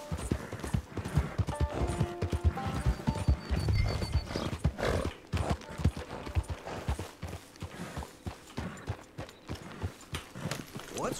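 Horse hooves clip-clop steadily in Red Dead Redemption 2 on PC, a close, rhythmic walking gait with a brief whinny early on and game music in the background.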